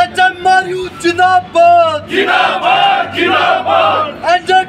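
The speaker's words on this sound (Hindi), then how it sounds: "दवा प्रतिनिधियों ने प्रदर्शन कर जताया आक्रोश" Protesting medical representatives chant slogans in loud, rhythmic group shouts, with a voice leading and the crowd answering close by.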